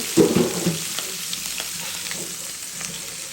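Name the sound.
rohu fish pieces frying in oil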